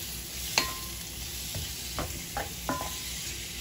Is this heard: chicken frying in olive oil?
yes